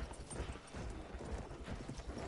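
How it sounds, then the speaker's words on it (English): Horse hooves clip-clop steadily in a video game, a faint, busy patter of hoofbeats under background game noise. "You on a horse?"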